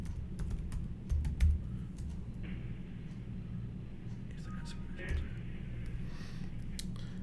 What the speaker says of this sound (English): I gotta type this in again